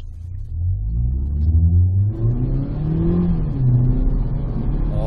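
Suzuki Swift Sport ZC33S with an aftermarket deep-bass muffler revving up close, a muffled low rumble climbing steadily in pitch as the throttle is held, running continuously for about five seconds.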